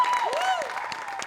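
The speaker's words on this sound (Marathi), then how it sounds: "तरी सुद्धा या कार्यक्रमासाठी एकदा जोरदार टाळ्या" Studio audience applause on a Marathi comedy show, steady clapping from the crowd with whistle-like tones sweeping over it, moderately loud throughout.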